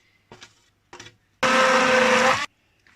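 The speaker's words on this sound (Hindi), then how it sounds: "इसको हैंड ब्लेंडर के साथ इसको ब्लेंड करते हैं" A couple of short clicks, then a loud electric hand blender whirs steadily through chili sauce for about a second before stopping.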